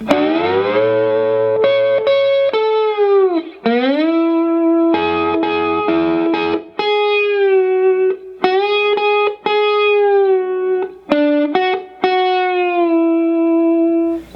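Electric slide guitar solo from a song with gliding slides between sustained notes, processed with effects, loud and singing, with brief pauses between phrases.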